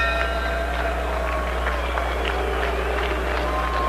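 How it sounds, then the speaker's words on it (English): Boxing arena crowd booing in disapproval after a Floyd Mayweather bout against O'Shields ends without a knockout, a loud continuous roar of voices with scattered jeers, heavy low rumble underneath. "Crowd showing some disapproval."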